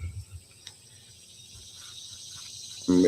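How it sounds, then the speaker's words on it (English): Crickets chirp as a comedic sound effect on a podcast, a faint steady high trill running throughout with low rumbles underneath, before a louder burst near the end. "I gotta say, yo, and that, yep, and it's crickets."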